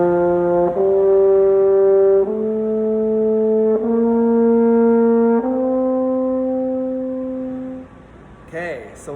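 A French horn sounds sustained, steady notes with the first valve pressed, moving stepwise through several pitches one after another, loud and clear with no talking.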